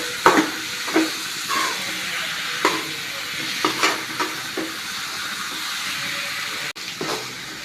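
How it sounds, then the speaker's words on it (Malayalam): A spoon works through a pan of Kerala-style chicken curry with roasted coconut paste while it sizzles and hisses steadily, with repeated scraping strokes and soft clinks over the continuous frying sound. "ചിക്കൻ കഷ്ണം ചേർത്ത് കൊടുത്തിട്ട് നന്നായിട്ടൊന്ന് ഇളക്കുക"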